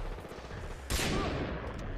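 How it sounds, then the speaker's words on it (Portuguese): Gunfire from a Far Cry 3 co-op match: a loud shot bursts in about halfway through over a constant background of game noise, with no talk. "Agora eu errei o tiro."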